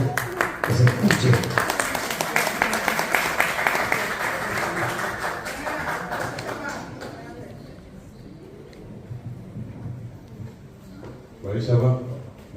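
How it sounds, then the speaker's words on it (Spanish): A crowd applauds at an award ceremony honouring a teacher, a strong burst of clapping that fades out midway, then a short renewed round near the end, with speech heard over it. "Con un fuerte aplauso, por favor, que se escuche."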